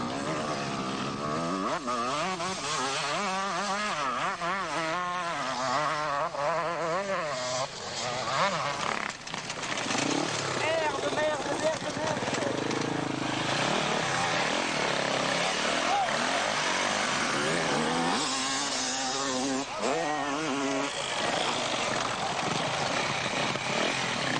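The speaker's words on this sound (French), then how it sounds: "Voici le Belge Pascal Cobb sur sa 125 Honda qui finira premier de la catégorie 125." Small-bore two-stroke buzz of a Honda 125 enduro motorcycle racing a vintage 1994 enduro event, loud and continuous with revving rises and falls as it passes, under faint commentary.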